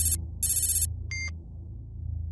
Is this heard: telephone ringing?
yes